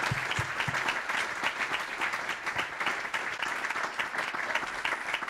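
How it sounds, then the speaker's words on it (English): Steady applause from a SaaS masterclass audience, dense clapping sustained throughout with no voices standing out. "Give a huge round of applause to Jason, please."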